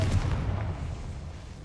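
A Confringo blasting spell explodes in a Harry Potter video game, a single deep boom at the start whose rumble quickly fades into a quiet tail.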